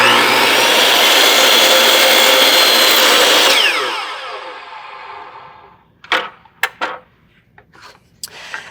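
Miter saw making an angled cut through wood, a loud steady motor whine that winds down, followed by a few clunks and knocks as the blade settles.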